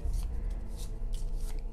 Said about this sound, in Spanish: hay que barajarlas